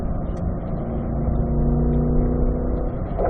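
Chevrolet C8 Corvette engine accelerating on a race track, a steady low droning roar that swells slightly as it builds, heard from inside the car.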